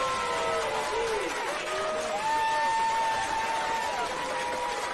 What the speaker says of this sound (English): Give him a little applause